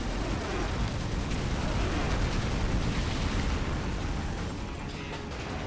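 A tank chain gun fires nonstop in 007 Agent Under Fire, a dense roaring barrage of rapid blasts that stays loud throughout and eases slightly near the end.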